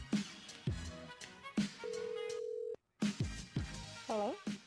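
A telephone line tone sounds while a call is connected on a sports talk show, a steady, evenly pitched hum lasting about a second, set between bursts of voices talking.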